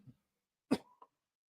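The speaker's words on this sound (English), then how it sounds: "I have to cough" A single sharp cough from a person, close and fairly quiet, followed by a brief throat sound, with near silence before and after.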